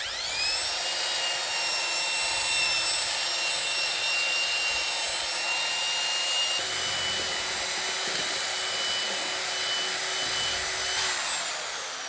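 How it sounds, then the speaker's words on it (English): A steady, high-pitched motor whine runs without a break, close and continuous, from a drill driving a mixing paddle to whip drywall mud. "Now that's going to mix up your mud into a nice whipped up like substance."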